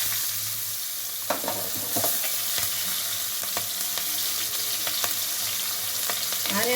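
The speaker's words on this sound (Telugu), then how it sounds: "ఇదే ఆయిల్లో ఆనియన్స్, పచ్చిమిర్చి" Onions and green chillies frying in hot oil for a mutton dry curry, a steady close sizzle with repeated spatula stirs and light scraping against the pan throughout, no voices.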